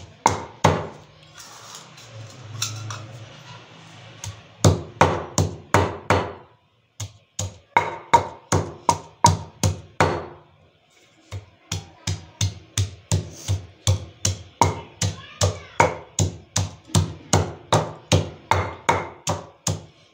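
Garlic, ginger and onion pounded by hand in a kitchen, a steady series of sharp rhythmic thuds with brief pauses between runs, close and clear with no talking.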